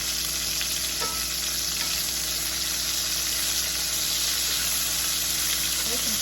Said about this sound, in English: Go ahead and add our onion. Add it on in over here to the side.